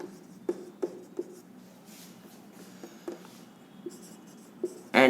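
A pen writes notes on paper in a quiet room during a grammar lesson, soft scratching strokes broken by sharper taps as it lifts and touches down, with a louder clunk at the end.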